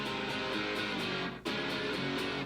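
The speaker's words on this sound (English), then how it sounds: "So together we've got this kind of like thinner, kind of, slightly overdriven guitar tone," Two electric guitar parts play together in a pop-rock arrangement, a thinner, slightly overdriven tone, strummed steadily with a brief dip near the middle before resuming.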